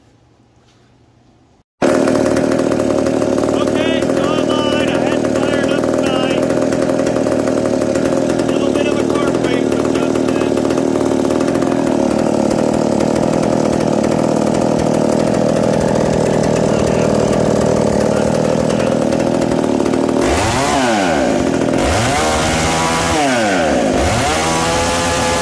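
A restored McCulloch Super Pro 125 chainsaw starts abruptly after a quiet moment and runs loud and close, a steady buzzing two-stroke drone with revving swells near the end.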